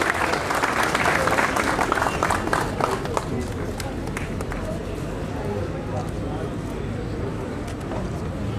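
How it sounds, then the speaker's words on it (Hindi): An audience at a World Cancer Day awareness event applauds a young mountaineer guest, with loud clapping at first that thins to a lighter patter, and voices heard through it. "जोरदार तालियां हो जाए हमारे गेस्ट के लिए"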